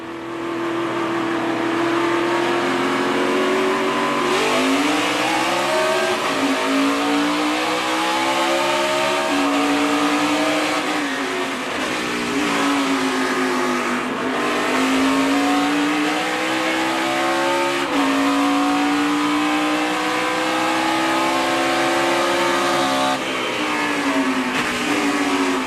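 Ford stock cars racing side by side at Mid-Ohio in a 2015 Nationwide Series race, loud engines revving and shifting up and down as they accelerate into turn two, continuous close roar with overlapping engine notes.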